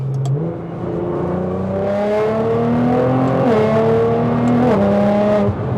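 A Nissan GTR with an Fi exhaust revs hard at full throttle, a loud close engine note climbing steadily in pitch through the gears with short dips at the shifts, with no talk.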